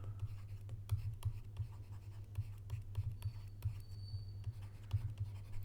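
Marker or chalk strokes scratch across a board in a physics lesson, a steady series of short quiet scrapes and taps over a low hum, with no clear talking.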